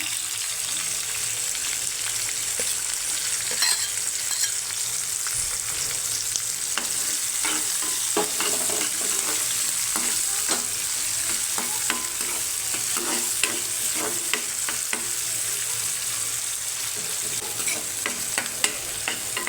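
Chopped onion frying in hot oil with mustard seeds and cumin for a ridge gourd gravy, a dense continuous sizzle with fine crackles and occasional stirring scrapes, close and steady, with no voices.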